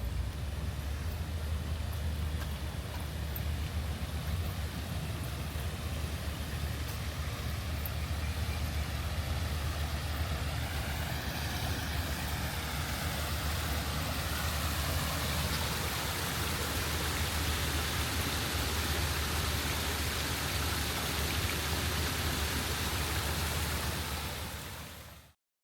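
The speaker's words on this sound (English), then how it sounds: "And a waterfall. I gotta go check out the waterfall." A waterfall along a small stream on a walk in Malaysia gives a loud, steady, broadband rushing roar that holds evenly for about twenty-five seconds before cutting off abruptly.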